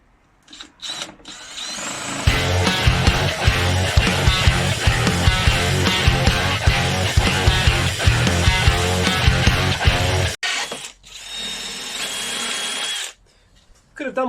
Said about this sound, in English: Time to use a hole saw.